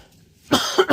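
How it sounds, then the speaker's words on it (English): A single close, sharp cough bursting out after a quiet moment, followed by a second rougher hack. "Excuse me. I didn't mean to cough on you guys."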